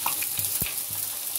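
Mustard seeds, cumin and dried red chillies sizzle and crackle in a small pan of hot oil, a close, steady frying hiss broken by a few sharp pops.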